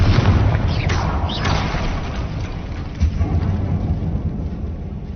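A Confringo fire spell blasting in the Hogwarts Legacy video game inside a decayed catacomb; a heavy, rumbling boom that rolls on as a sustained low roar for several seconds.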